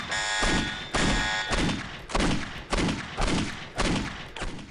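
Heavy gunfire in the shooter game Postal 2: about eight loud, evenly spaced booming shots, each decaying into a rumbling tail, with a brief buzzing tone at the start.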